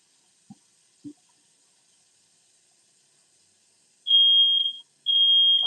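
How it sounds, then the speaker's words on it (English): A kitchen smoke detector set off while bacon fries in a skillet and water boils for rice gives two long, loud, piercing electronic beeps near the end, after a couple of faint knocks. "Hold on, let me turn the smoke detector off."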